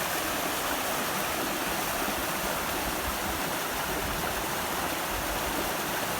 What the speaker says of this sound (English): Bottom of Big Granite Creek, North Fork, looking upstream.